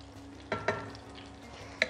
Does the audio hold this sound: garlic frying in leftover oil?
yes